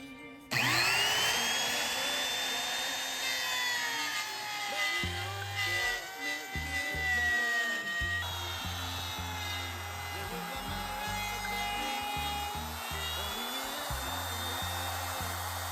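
An electric wood trimmer router cuts a groove in wood, a loud high whine that shifts pitch as the bit bites, steady and close for the whole stretch.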